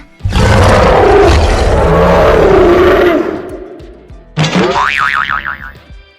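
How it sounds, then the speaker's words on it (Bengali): Cartoon blue dinosaur roars long and loud at close range, then a wobbly springy boing follows after a short gap. "এটা তো আস্ত একটা নীল ডাইনোসর"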